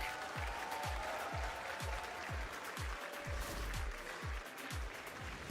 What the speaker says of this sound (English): The applause is yours